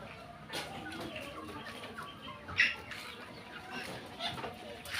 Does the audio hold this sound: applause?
no